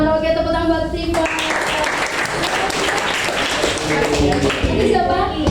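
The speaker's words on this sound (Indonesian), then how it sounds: "Oke, tepuk tangan buat Steven." Classroom students applaud a classmate with dense, steady clapping for several seconds, framed by a teacher's voice speaking briefly before and after.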